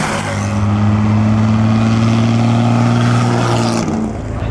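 A vintage Alfa Romeo racing car at the 2009 Mille Miglia road event, a loud, close steady engine drone with a strong low hum that holds and then eases off as it passes, with no talk.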